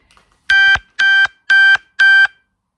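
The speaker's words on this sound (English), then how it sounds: "That's my phone going off." A mobile phone alert sounds four loud, identical electronic beeps in an even, rapid rhythm, each about a quarter second long, close and clear over silence.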